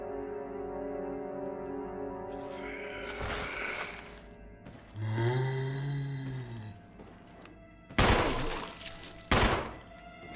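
Gunfire at a zombie in Resident Evil 1, a few sharp shots spaced seconds apart over a droning ambient game soundtrack with a rising tonal swell.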